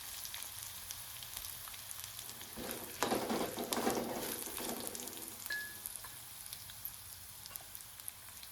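Garlic frying in hot oil for a churumuri tempering, a steady close sizzle with a louder crackling burst as it hits the pan, then settling back to a soft continuous hiss.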